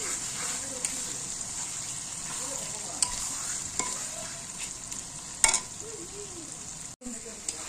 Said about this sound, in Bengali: জিরা বাটা, হলুদ গুঁড়ো দিয়ে দিব। সব আমি একবারে দিয়ে দিলাম। এটা একটু কষবো